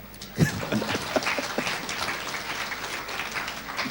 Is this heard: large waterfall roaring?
no